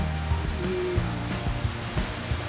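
A river flowing along a border, a tributary of the Río Negro in southern Intibucá: a continuous rushing wash of water, fairly loud and steady, with a few faint tonal hums underneath and no speech.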